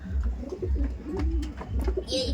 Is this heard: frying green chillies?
no